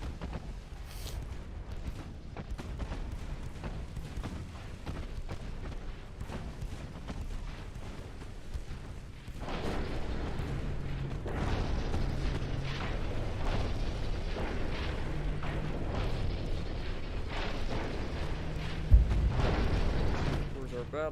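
Battle noise from a war video game, with booming explosions and gunfire that go on without a break under a streamer's talk, growing denser about halfway through, with one sharper bang near the end.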